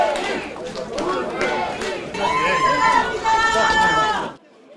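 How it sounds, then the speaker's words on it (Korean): Merchants at a traditional market in Daegu cheer and call out together, a lively crowd hubbub of overlapping voices that swells and then cuts off abruptly. "시장 상인들의 환호를 받았습니다"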